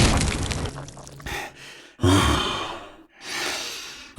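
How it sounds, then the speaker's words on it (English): Heavy, close breathing heard through the vox units of armored Warhammer Kill Team soldiers in a Khorne-themed audio story, a few loud drawn breaths with short silent gaps between them. "The sound of their own breathing spread loudly through their vox units"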